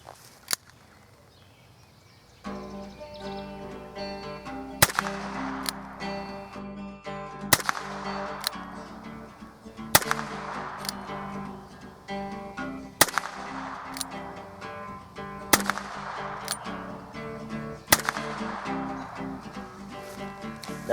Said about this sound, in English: So let's take some shots here at 15 yards and see how we do.